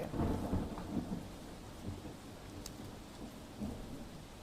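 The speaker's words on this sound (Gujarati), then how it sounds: "નવસારીમાં આજે સતત ત્રીજા દિવસે વરસાદ વરસી રહ્યો છે" Steady rain pattering down in Navsari, Gujarat, fairly soft, with low rumbles of thunder rolling in now and then.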